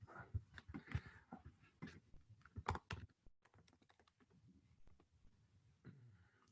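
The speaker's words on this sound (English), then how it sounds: "let me just type in billboard" Rapid typing on a computer keyboard, a run of close, crisp keystrokes in uneven bursts with short pauses between words, heard alone with no talking.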